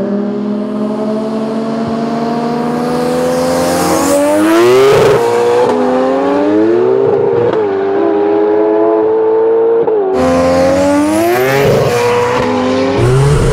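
A three-rotor Mazda RX-7 and a Ferrari 488 Pista in a roll race, loud engines rising in pitch through the gears with abrupt drops at each shift, screaming close by and with no talking.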